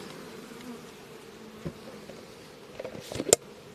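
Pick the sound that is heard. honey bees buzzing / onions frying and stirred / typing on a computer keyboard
honey bees buzzing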